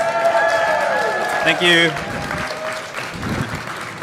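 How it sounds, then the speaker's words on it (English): A crowd applauds a Norwegian competitor at a Brewers Cup coffee competition. The steady clapping runs beneath music and voices, and a short spoken thanks comes near the middle. "Let's give him a big round of applause."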